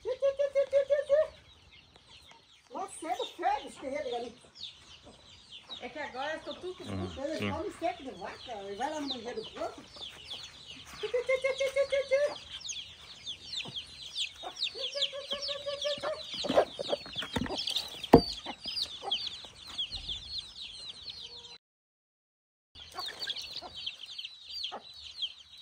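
A flock of chickens with two roosters clucks and crows almost nonstop in a yard, with repeated rooster crows rising above the hens' chatter while people talk over it.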